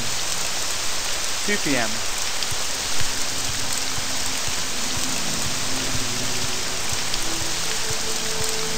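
Steady rain in the video game Morrowind, a constant even hiss of falling drops throughout, with a brief voice and faint tonal game sounds mixed in underneath.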